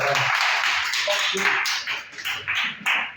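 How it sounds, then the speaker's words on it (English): A class claps for a student in a sales training session: a burst of applause from a small group, fairly close and steady, thinning toward the end with voices mixed in. "Well done, let's give Jack a big round of applause."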